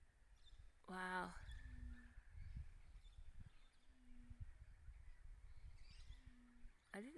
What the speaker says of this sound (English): I don't know what sort of bird that is, but it must be a shy bird.